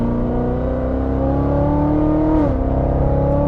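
A C7 Corvette Z06 engine roars steadily at high revs under hard acceleration, loud and close, then briefly drops in pitch as it shifts before pulling hard again.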